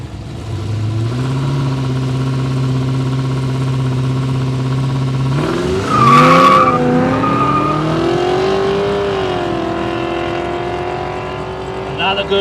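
Drag racing at a no-prep airstrip event as a Holden Commodore and a Ford Torino make a pass, loud engines droning steadily then revving and rising in pitch, with a brief tyre-squeal burst midway and a voice talking over it.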